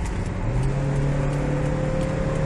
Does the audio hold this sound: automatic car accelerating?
yes